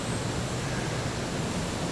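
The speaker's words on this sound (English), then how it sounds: "the water is running at a fairly high level" High water rushes through a roadside ravine culvert in a steady, dense roar that stays loud and unbroken throughout, with no voices.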